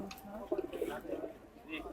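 Racing pigeons, around three hundred brought by van to a release spot, coo faintly in soft, brief bursts beneath nearby voices.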